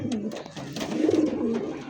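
Large Lahori pigeons in almond coloring coo softly in repeated low murmurs, with other birds calling faintly and a voice talking nearby.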